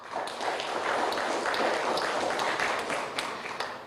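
Studio audience at a televised children's Quran competition applauding in a dense, sustained wash of clapping that holds steady before tapering slightly at the end.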